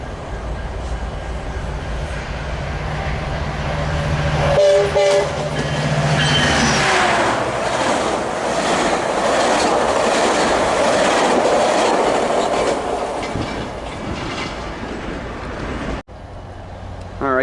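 Metrolink commuter train 618 bound for Laguna Niguel and Mission Viejo passing at Commerce, a loud rising rumble with rhythmic wheel clatter and a brief squeal as the cars roll by close, then cutting off sharply near the end.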